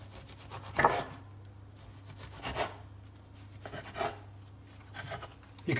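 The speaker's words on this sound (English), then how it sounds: "Next, I'm going to just chop up with a bread knife, roughly as focaccia, into chunks." Serrated bread knife sawing through focaccia on a board for a sausage tray bake, several short rasping strokes in separate bursts with pauses, close and fairly quiet, no talking.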